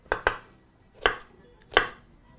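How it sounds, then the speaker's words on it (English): A knife chops an onion finely on a board for a mutton tikka dinner, giving four sharp, close cuts: a quick pair at the start, then two single strokes spaced well apart, with quiet between them. "So just begin the process by cutting some slits on your onion and proceed to chop that finely."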